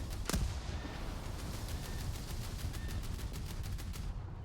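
Cannon fire in a naval combat video game: a sharp close blast at the start, then a rapid series of fainter rhythmic shots over a steady rumbling background.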